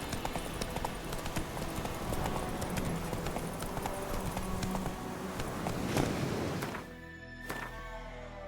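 A horse trots in The Witcher 3 video game, its hooves clip-clopping in a rapid, even rhythm that sounds close and fairly loud, then eases toward the end.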